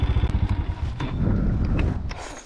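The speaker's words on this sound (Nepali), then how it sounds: "मेरो बाइकले मिस गर्दैछ" A motorcycle engine runs rough and misfires nearby, sputtering in uneven bursts with a clattering, irregular beat over about two seconds.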